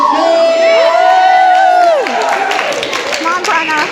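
A small college audience at Saint Anselm College cheers and whoops ahead of a stage hypnosis show, loud shouts and scattered clapping that fade slightly toward the end, with talking voices mixed in.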